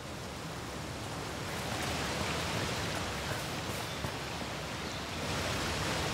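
River flowing in the video game A Plague Tale: Requiem, running high after rain: a steady, dense rushing wash of water, constant and fairly close, with no talk.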